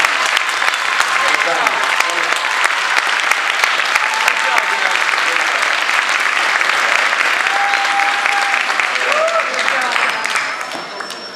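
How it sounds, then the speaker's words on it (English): Audience at a school winter concert clapping loudly and continuously for several seconds, a dense wash of applause that fades slightly at the end, with faint voices and a few whistles mixed in. "Round of applause."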